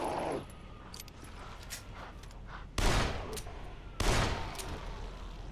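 Shotgun blasts in the video game Dead Island fired at zombies: two heavy booming shots a little over a second apart stand out over quieter game clatter and smaller pops.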